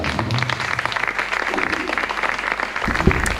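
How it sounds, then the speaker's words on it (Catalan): An audience at a riverside poetry reading applauds steadily, a dense wash of many hands clapping throughout, with a faint voice briefly audible near the end. "Fora aplaudiment per la Chantal."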